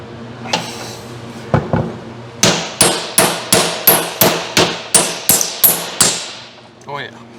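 A rapid, regular series of about a dozen sharp metal hammer strikes while pulling a 351 Windsor engine from a 1986 Ford LTD, loud and close, each leaving a short ringing tail.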